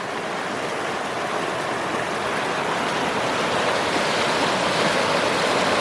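Steady rushing water of a river in the Cranberry Wilderness, Monongahela National Forest, flowing past a campsite, a continuous close broadband wash with no voices.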